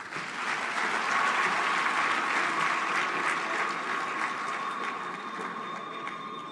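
A crowd at the Team Botswana appreciation dinner applauds steadily for the Gaborone District Commissioner, a continuous wash of clapping that fades slightly toward the end, with a faint high steady tone running underneath.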